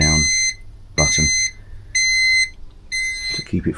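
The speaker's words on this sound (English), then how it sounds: "I don't mind it flashing, but I don't need a beep" An AutoBench AB MR3500KG vehicle scissor lift carrying a Range Rover L322 4.2 Supercharged sounds a loud, high electronic warning beep while lowering, repeating in half-second pulses roughly once a second, with a voice and mechanical noise underneath.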